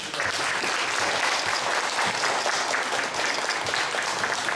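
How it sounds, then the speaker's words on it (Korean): Lecture audience applauding at the close of a health and integrative medicine talk in Korea, steady dense clapping filling the room at full strength throughout, with no voices over it. "신라바드 박사님께 다시 한번 큰 박수 부탁드리겠습니다"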